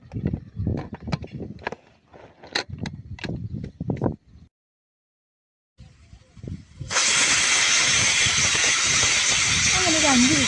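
Pressure cooker cooking chicken at a lakeside campsite releases a loud, steady hissing whistle of steam that starts abruptly partway through, after a stretch of talk and a brief silence.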